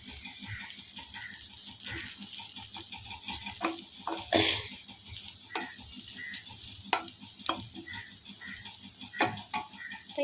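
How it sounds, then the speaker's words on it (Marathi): Onions browning in a pan on the stove give a steady close sizzle, broken by clinks and scrapes of stirring. "आपला कांदा छानपैकी फ्राय झालेला आहे"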